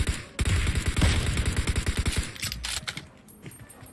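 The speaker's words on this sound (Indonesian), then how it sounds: "Tembakan tuh." Rapid automatic gunfire in the mobile battle-royale game PUBG Mobile, delivered as a dense, loud, steady burst of shots that tapers off into scattered pops near the end.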